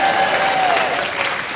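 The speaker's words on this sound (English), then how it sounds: "A big round of applause for all the people up in the cheap seats up there." Theatre audience applauding steadily throughout, a dense wash of loud clapping from a large crowd in the cheap seats, with no voices standing out.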